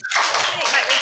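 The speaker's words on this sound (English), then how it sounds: "So I think that deserves a huge round of applause" Applause at a school superstar assembly, a dense wash of clapping from a gathered audience that starts abruptly and holds steady and fairly loud throughout, with no pause.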